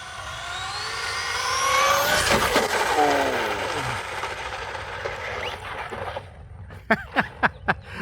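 A high-speed RC car with a Castle Cobra 5 HV ESC makes a speed run, its whining motor rising in pitch as it passes and fades away, followed by a few sharp clicks near the end.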